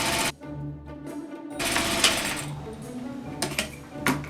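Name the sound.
sewing machine stitching a French seam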